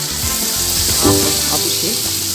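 Okra (bhindi) fries in a pan with a steady, loud, close sizzle and some faint clinks of stirring.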